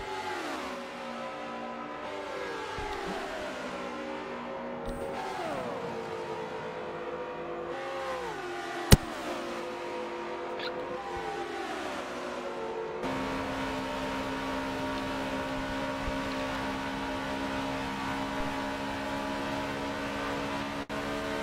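NASCAR Cup Series Chevy and Ford race cars in a racing video game roar continuously, their engine pitch climbing and dropping through repeated gear shifts before settling into a steady high drone.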